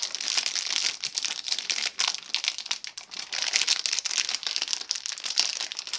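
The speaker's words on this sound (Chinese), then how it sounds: "拆开这个塑料包装。" Plastic packaging being torn open and crinkled on a French army combat ration pack, Ration de combat N°12, close and steady with continuous crackling rustles over six seconds and no talking.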